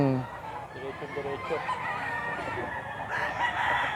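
A Golden Boy gamefowl rooster crows nearby, its call rising and held over a couple of seconds, followed by farmyard clucking and other fowl while someone speaks briefly in the background.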